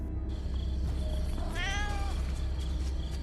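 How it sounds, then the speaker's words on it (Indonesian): A cat gives a single drawn-out meow partway through a tense horror-film scene, set against a steady low rumbling soundtrack with no talking. "Kucing Medi yang hendak pulang ke rumah tertangkap psikopat."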